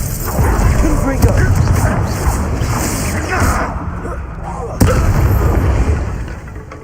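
Spell blasts and magical combat effects from the Hogwarts Legacy video game, including a Confringo fire blast, boom continuously under loud overlapping game noise with sharp bursts and a player voice calling out spells.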